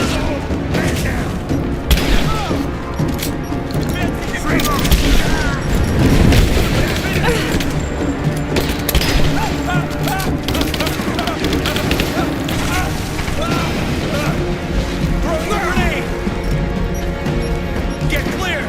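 Constant gunfire and heavy explosions in a Rise of the Tomb Raider battle, booming crashes and rattling shots layered thickly throughout with shouting voices mixed in.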